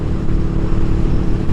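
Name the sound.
Yamaha motorcycle engine revving from throttle blip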